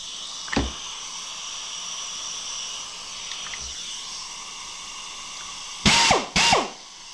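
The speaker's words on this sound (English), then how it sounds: "Excuse the air drill, because this is the one that always has an 1/8 inch drill bit in it." A pneumatic air drill fitted with a 1/8 inch bit used on sheet metal in a workshop, heard as two short loud bursts near the end after a quieter stretch of background hum and a brief earlier click.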